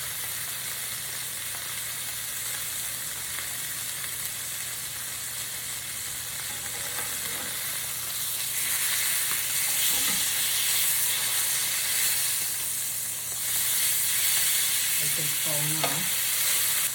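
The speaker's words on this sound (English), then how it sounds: "I want to sear off the bacon on all sides." Bacon searing in a hot pan fills the space with a continuous bright sizzle and crackle that swells a little louder partway through, with occasional faint clinks of handling and no talking.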